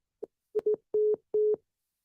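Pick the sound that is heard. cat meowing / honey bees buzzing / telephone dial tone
telephone dial tone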